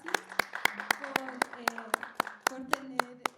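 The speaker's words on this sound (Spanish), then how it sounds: "Muchas gracias, un aplauso," A small audience claps in a brief burst of applause after a church Bible session volunteer helps with an illustration, sharp claps repeating in an uneven rhythm with a voice speaking over them.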